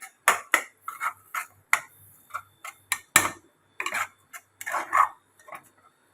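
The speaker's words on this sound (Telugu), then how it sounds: "ఇప్పుడు ఆ పొడిని నేను ఈ గోంగూరలో కలిపేస్తున్నాను" Chili powder being stirred into gongura (sorrel leaf) chutney, with a spoon striking the vessel in a series of sharp, close clicks and taps in an uneven rhythm against near silence.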